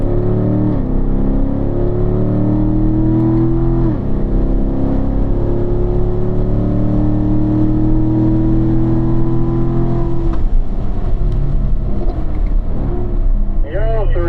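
A Corvette accelerates on a race track, its engine droning loud and steady as it climbs and shifts pitch over several seconds, with a voice talking faintly underneath.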